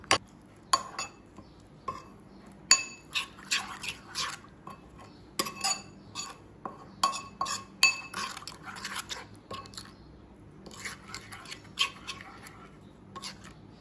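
A spoon clinks and scrapes against a bowl while a hair pack mixture is stirred with water, giving a series of light, irregular taps and rattles close to the microphone.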